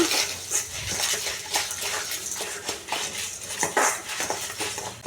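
Chitranna seasoning is roasted in a pan, with a spoon scraping and clinking against the metal in a steady irregular stirring rhythm, close by and moderately loud.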